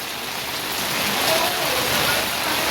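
Steady, dense rain pours down over a rooftop terrace during a downpour, a continuous broadband hiss that holds loud and even throughout with no other clear sounds.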